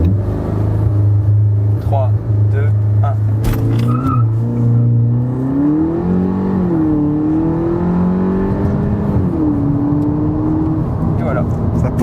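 VW Polo 6 GTI launching from a standstill with launch control, a held rev climbing as the car pulls away and accelerates hard through the gears, heard from inside the cabin with people talking and a countdown spoken first.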